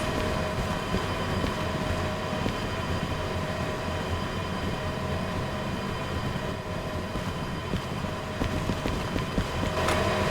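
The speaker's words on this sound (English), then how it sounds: "I'm only running the first two locomotives." Steady, loud rolling rumble of the first two locomotives running in the Derail Valley train game, a continuous dense roar with droning engine tones and no pauses or voices.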